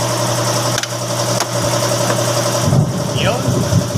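A Mitsubishi Mirage engine idles with a steady, close hum after a change-oil service, its drone continuous throughout, with a soft knock and some background shuffling near the end.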